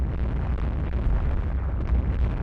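Shell hits exploding on warships during a naval battle in Rule the Waves 2: a continuous low, rumbling roar of blasts rolling together for a couple of seconds, heavy in the bass with no voices.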